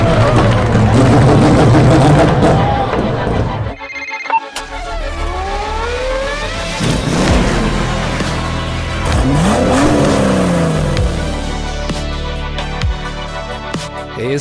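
A Mazda 787B rotary-engine race car roars loudly and close, with a dense, shrieking engine note that dips briefly, then climbs in rising and falling pitch sweeps as it revs and shifts.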